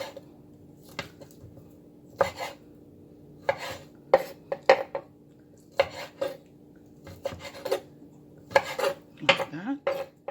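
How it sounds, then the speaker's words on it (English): A knife cutting cooked meat for green banana pies: scattered sharp scrapes and taps of a blade against a plate or board, irregular and close, separated by quiet gaps over a faint steady hum. "And see how easy it is to cut when it's cooked?"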